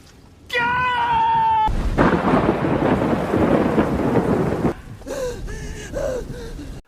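A sudden loud downpour roars for about three seconds, broad and hissing, framed by dramatic tonal sounds and gasps before and after.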